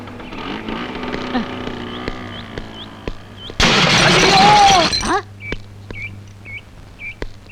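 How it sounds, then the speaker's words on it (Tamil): A sudden loud crash of shattering and breaking from a scooter accident lasts over a second, standing out from quieter background sounds and music, then fades into scattered chirps. "இப்ப ஸ்கூட்டர்ல போனானே அவன் ஆக்சிடென்ட் ஆகி செத்து போயிட்டான்"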